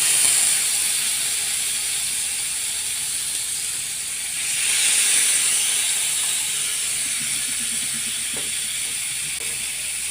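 Chicken tikka sizzles in hot oil in a pan over a low gas flame, a steady close frying hiss running throughout, swelling briefly midway, with faint clicks near the end.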